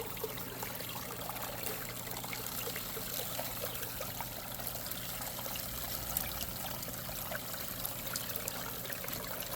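Water runs steadily over a 3D-printed gold sluice mat during gold prospecting, producing a continuous close trickling and rushing wash that holds evenly for the whole stretch, with no voices.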